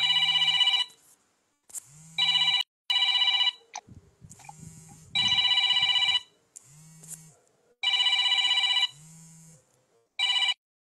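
A telephone ringing in repeated electronic bursts with short gaps, loud and close, with low rustling and handling noise between rings.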